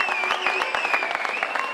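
Audience clapping at a 2010 Shomron basketball league ceremony, a steady continuous patter of many hands, fairly close and full, with a voice briefly heard above it.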